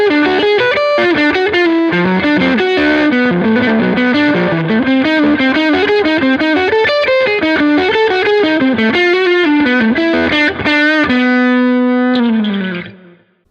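Electric guitar with distortion and effects plays a fast, dense lick, a continuous run of many quick notes that ends on a long sustained note, with no talking.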